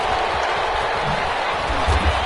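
A stadium crowd roars in an NFL video game matchup between the Pittsburgh Steelers and the Minnesota Vikings, a dense, steady wash of cheering that holds at an even loudness throughout.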